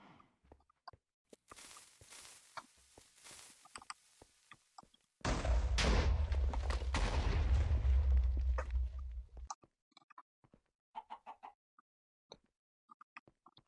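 A single sustained explosion-like roar in Minecraft, a loud rumbling blast lasting several seconds, framed by sparse clicks and small pops of block and footstep sounds before and after.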